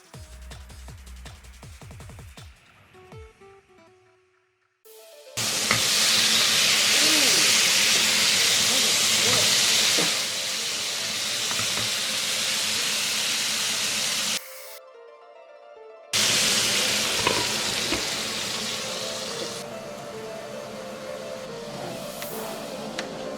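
Burger patties sizzle loudly in a cast iron skillet, a bright steady hiss that runs in long stretches, broken by a couple of short cuts to quiet and lower background sound.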